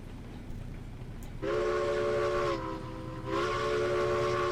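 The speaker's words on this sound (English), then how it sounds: "This one has one of the best whistles." A steam locomotive whistle from the video game Railroads Online sounds in two long, loud, harmonic blasts, the first about a second long and the second starting shortly after, over a low rumbling engine background.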